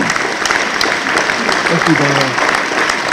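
Audience applause at a fish passage summit plenary session, steady clapping throughout with a voice speaking briefly over it.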